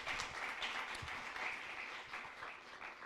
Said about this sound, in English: a round of applause for the University of Galway